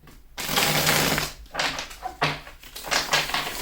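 Tarot cards being shuffled close up in long riffling bursts, papery rustles and flutters repeating four or five times with brief pauses between, loud and alone without talk.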